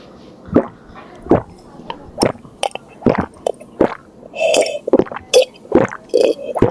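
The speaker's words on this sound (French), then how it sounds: "je vais boire de l'eau" Someone drinking water in separate close-up gulps and swallows, wet squishy mouth sounds arriving in irregular bursts with short pauses between, no talking.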